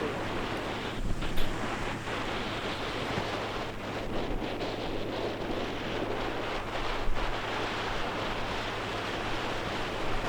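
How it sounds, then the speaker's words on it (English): Steady, freezing wind roars across the microphone at a plane-spotting spot near LAX, a broad continuous rush with a few stronger gusts, and surf faintly beneath it. "You can hear the wind."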